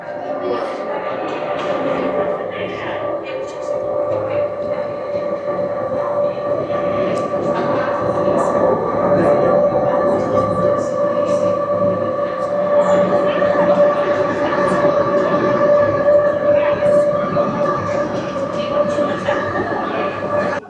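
A Swiss mountain railway train standing at a station as its doors slowly open, with a steady loud mechanical hum and hiss throughout and occasional clicks, under faint background voices.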